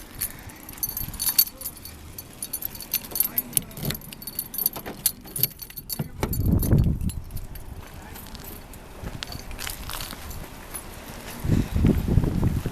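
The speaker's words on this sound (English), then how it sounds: "Lock the car." Car keys jangle and a vehicle lock sounds near an outdoor fishing spot, with scattered clicks and footsteps over background ambience and a couple of louder bursts of movement noise.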